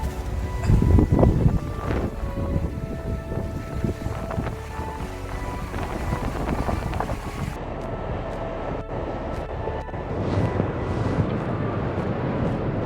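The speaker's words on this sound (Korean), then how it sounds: "지금 여기서 벗어나면은 바람 때문에 삼각대를 세워놓을 수가 없어요" Strong wind buffets the microphone at a seaside rock fishing spot on the East Sea coast, a steady loud roar with gusts and surf underneath, continuous throughout.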